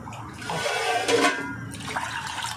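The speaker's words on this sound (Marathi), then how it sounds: "मग आता मी पाणी घालणार आहे ह्याच्यात" A steady, fairly loud rush of water is poured into toor dal in a pot before cooking it for an egg curry, lasting a few seconds with no speech.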